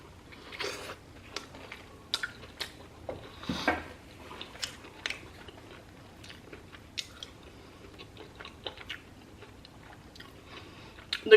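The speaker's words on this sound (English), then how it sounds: "The crunch of the chicken" Crunchy chicken parmesan sandwich being bitten and chewed up close, with repeated crisp crunches and soft wet chewing sounds in an irregular rhythm.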